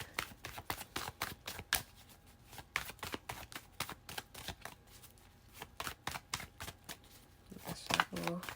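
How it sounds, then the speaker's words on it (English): Tarot cards shuffled in quick, close riffling snaps that come in an uneven rhythm, with soft speech faintly mixed in. "Let's shuffle."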